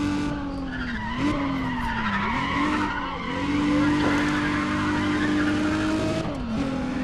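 Race car tires skidding and squealing through a hard right turn in the Need for Speed ProStreet racing game, wavering screeches over a loud engine roar that rises and dips throughout.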